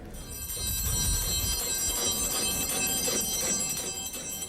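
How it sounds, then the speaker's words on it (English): Continuous bright metallic ringing with sustained bell tones from an ice cream truck over a steady rumbling background, loud and unbroken throughout. "we got some other bells for you to listen to"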